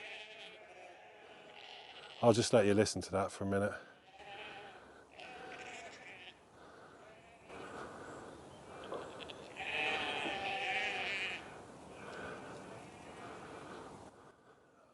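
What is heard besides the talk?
flock of sheep bleating in countryside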